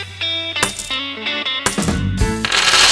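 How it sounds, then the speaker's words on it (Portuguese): Several coins drop and jingle into an Estrela Boca Rica toy game, bright close metallic clinks arriving in irregular bursts, with ringing resonance and a final denser rattle. "agora com sons de moedas."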